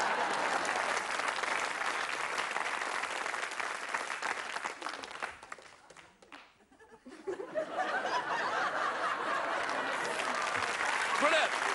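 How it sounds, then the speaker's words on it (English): Studio audience on a game show breaks into loud, sustained applause with some laughter, dipping briefly in the middle before swelling again to full clapping. "Let's give a nice round of applause."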